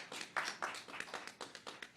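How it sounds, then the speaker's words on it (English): Scattered audience clapping at a ceremony honouring a King County mechanic who won Washington's vaccine lottery grand prize, irregular claps rising and falling over about two seconds, moderately quiet and without talk. "how about a round of applause for a good guy"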